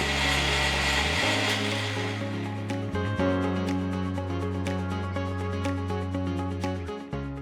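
A Greenworks 40V cordless cultivator runs with a steady electric motor whine and rattling tines, close and loud, its pitch dipping and shifting briefly a few times as it works.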